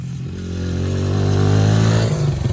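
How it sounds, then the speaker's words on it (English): A Honda XR100 dirt bike engine revs up and holds a rising, buzzy drone close by, climbing steadily in pitch before dropping slightly as it rides past at a grand prix race. "Nick's on the XR100. This is his probably his best bike"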